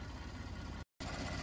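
A Ford F-150 EcoBoost engine with a K&N cold air intake runs steadily at idle, a close, even rumble with a brief dropout partway through.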